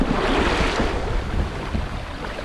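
Sailboat running dead downwind across the Bay of Biscay, with steady rushing ocean waves and wind noise washing past, close and continuous, no voices.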